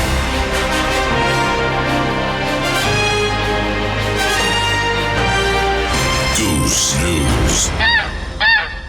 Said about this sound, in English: Let me get the old jingle.